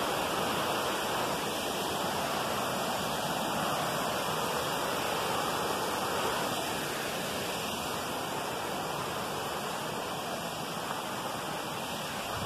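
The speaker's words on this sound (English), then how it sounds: "You can call it a waterfall or a weir." White water pouring over a river weir, a steady, dense rushing roar that holds unchanged and close throughout, with no voices.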